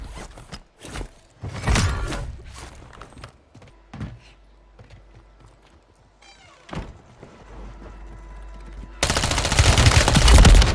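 Rapid bursts of video game gunfire on Rebirth Island in Call of Duty Warzone, with sharp shots in quick clusters amid footsteps and mechanical clatter, then a sudden loud wash of noise near the end.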